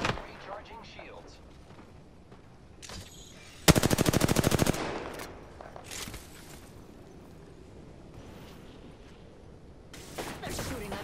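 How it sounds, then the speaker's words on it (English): Enemy gunfire in a shooter game: a dense burst of rapid automatic shots lasting about a second, loud against a background of softer game noise and scattered smaller bangs, with a short flurry again near the end. "They're shooting at me."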